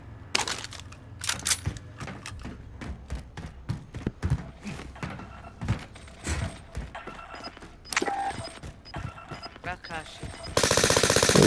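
Rapid bursts of automatic gunfire and single shots ring out in a Call of Duty: Modern Warfare Resurgence squad match, loud and close, mixed with game thuds and overlapping players' voices, ending in a sustained hiss of noise.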